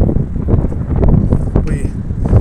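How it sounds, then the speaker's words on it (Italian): Strong, gusty wind buffets the microphone outdoors near the Sydney Opera House, a loud continuous rumble, while a person speaks over it. "Ma c'è un vento pazzesco."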